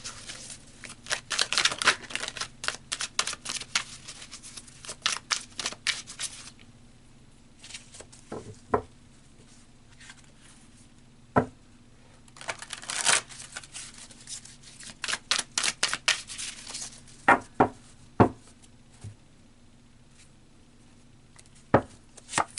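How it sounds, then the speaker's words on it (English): Tarot cards are shuffled and pulled in bursts of crisp riffling and slapping, close and fairly loud, with quiet pauses and single card snaps between the flurries. "So let's pull some tarot cards."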